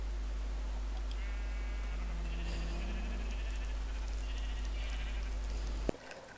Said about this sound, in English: here we see today a pink sheep in its natural habitat.